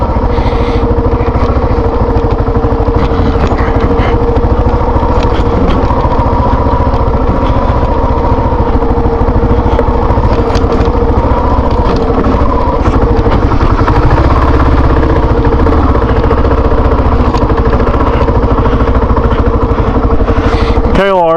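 A Kawasaki KLR motorcycle engine runs loud and close on a muddy trail, a constant throbbing drone that never lets up.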